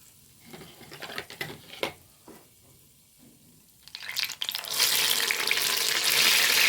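Pieces of food handled with wet hands drop into hot coconut oil, first a few scattered crackles and spits, then a loud sustained sizzle that swells and holds steady near the pan.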